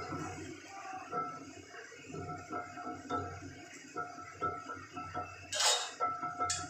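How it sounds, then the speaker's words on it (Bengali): A metal plate being greased with oil for a Bengali dish, giving soft scraping and clinking metal sounds with a sharper clatter near the end, close by and moderately quiet. "এদিকে একটা থালা নিয়ে নিয়েছি, থালার মধ্যে আমি তেল মাখিয়ে নিই।"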